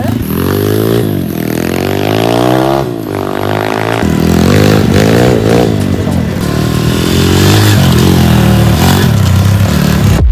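A motocross motorcycle ridden hard: a loud, close, continuous engine note that climbs and falls in pitch through repeated revs and gear changes, with no talking.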